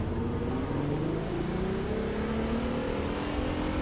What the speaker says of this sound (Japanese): 運転席で聞いたらエンジン音こんな感じですけども